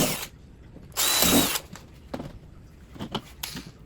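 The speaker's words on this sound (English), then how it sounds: "make sure it's level and pre-drill my holes" A power drill pre-drills holes for mounting a water dish holder on an enclosure, with short bursts of whirring and one longer loud run, followed by lighter clicks and handling noises close by.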